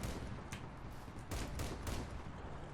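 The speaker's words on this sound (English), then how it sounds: "I'm going to take some shots in that direction." Gunfire in the vehicle combat game Crossout: a few sharp, faint shots go off amid a dense, rumbling battle din, with a cluster of bursts in the middle.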